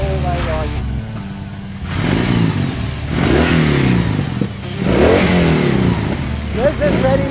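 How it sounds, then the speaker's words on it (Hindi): A BMW R18 heavy motorcycle engine revs repeatedly, each rise in pitch swelling loud and close over a deep idle, with people talking in the background. "A R18 pure heavy bike sound"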